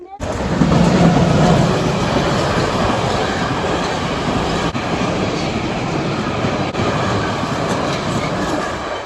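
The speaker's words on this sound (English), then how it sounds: "We are now stuck waiting for the train. Train should pass soon, hopefully" A train rumbles past close by in Sweden, a loud steady roar with faint rhythmic clatter throughout.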